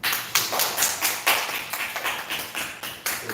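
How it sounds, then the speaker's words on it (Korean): A youth church congregation claps for one another during announcements, a short burst of fairly close, brisk hand claps with an uneven rhythm that continues throughout. "서로를 위해서 한번 박수."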